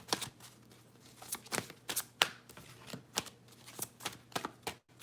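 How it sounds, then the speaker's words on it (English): Tarot cards are shuffled quietly up close, a run of soft, irregular riffling clicks and taps over about five seconds. "I'm just going to keep shuffling."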